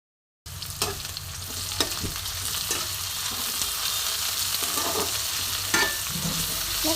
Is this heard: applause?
no